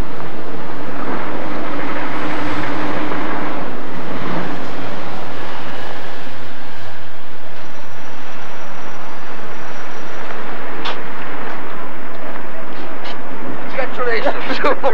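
Heavy road traffic in Birmingham city centre in 1984 roars steadily and loudly as vehicles stream past close by, with a voice speaking over the din.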